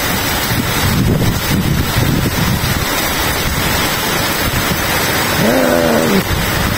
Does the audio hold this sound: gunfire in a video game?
no